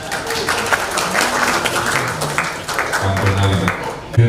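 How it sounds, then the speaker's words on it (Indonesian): Audience at an official launch event in West Java giving thunderous applause, a scattered burst of clapping mixed with crowd noise and some low background tones, moderately loud. "Coba tepuk tangan yang bergemuruh"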